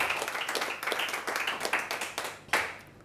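Congregation applauding and cheering during a church sermon, a dense wash of many hands clapping with crowd voices, steady and loud with a sharper burst near the end.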